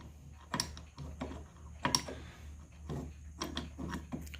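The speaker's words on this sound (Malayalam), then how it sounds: "അപ്പം നമുക്ക് ഇതിൽ കീ ഇൻസേർട്ട് ചെയ്യണം." Key being inserted into an Anglo Swiss punching time clock, a series of sharp metallic clicks and small mechanical clacks at irregular intervals, close and quiet, with no talking.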